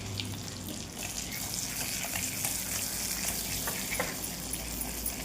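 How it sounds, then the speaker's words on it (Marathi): Stuffed eggplant curry being stirred in hot oil with chilli powder, a steady broadband sizzle and hiss running throughout with faint scraping stirs, close and fairly loud, no voices. "थोडंसं दाल तिखट टाकायचं आणि थोडंसं परत तेल हलवून घ्यायचं"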